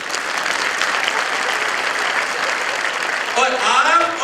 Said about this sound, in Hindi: उनके लिए बहुत जोरदार तालियां।